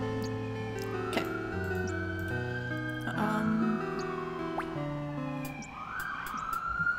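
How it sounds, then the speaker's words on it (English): Synthesized police sirens in the background of the King's Quest 5 video game, rising and falling tones layered over a music score with ticking sounds, fairly faint and with no speech. "police sirens in the background"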